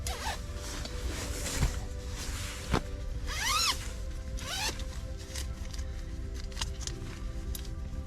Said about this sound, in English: Zippers are not my friends.